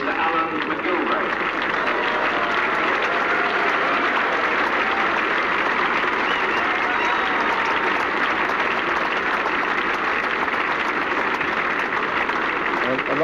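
A cricket ground crowd applauding Alan McGilvray, a dense, continuous roar of clapping that holds steady and loud throughout, with voices mixed in.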